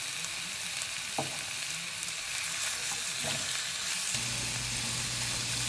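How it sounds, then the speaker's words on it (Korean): Sliced meat fries in oil in a pan with a steady, close hiss of sizzling, broken by a few soft scrapes of stirring and a low hum that starts near the end. "이제 고기가 모두 노릇노릇해질 때까지 잘 구워주세요."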